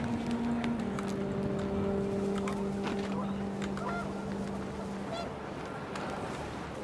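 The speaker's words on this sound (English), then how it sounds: "The wind picked up, and panicked geese appeared and quickly went." Panicked geese honking in the video game What Remains of Edith Finch, several loud drawn-out honks over a windy, rumbling background, close at first and fading as the birds leave.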